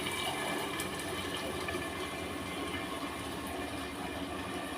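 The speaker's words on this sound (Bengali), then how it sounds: "আর এখানে আমার চিকেনের জল গরম হচ্ছে, আমি একটু গরম জলটা চিকেনের মধ্যে দিয়ে দেবো।" Hot water poured into a chicken curry in a pot, a continuous rushing, splashing pour that stays close and steady throughout.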